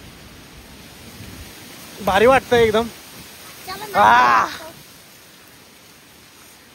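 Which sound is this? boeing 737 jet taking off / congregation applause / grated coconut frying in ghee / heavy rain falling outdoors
heavy rain falling outdoors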